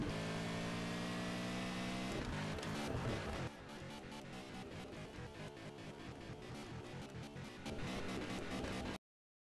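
Dodge Viper in the Car Parking Multiplayer racing game launching in a 402 drag run, a loud engine revving through rapid gear shifts, roaring continuously before cutting off abruptly.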